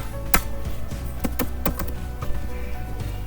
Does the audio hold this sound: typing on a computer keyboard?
yes